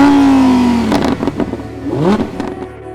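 A 2016 Lamborghini Huracán Spyder LP610-4 engine rises and falls through sharp, loud revs and gear changes, with crackling bursts between pulls and a rising whine near the end.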